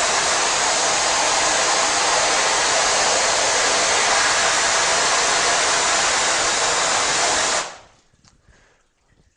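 A hose sprays water hard to wash screen printing emulsion out of the mesh, a steady loud hiss lasting about eight seconds before cutting off abruptly, followed by faint drips and handling noise.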